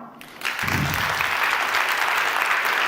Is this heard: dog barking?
no